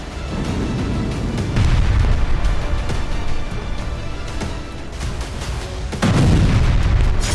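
Heavy booms and rumbling blasts from a missile attack on Kyiv during the Russia–Ukraine war, loud and sustained with repeated low thuds and a sharp new burst near the end, with no speech.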